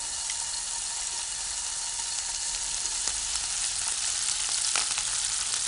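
Rashers of bacon fry in a hot pan, a dense, even sizzle and crackle with occasional sharper pops, close and continuous with no talk.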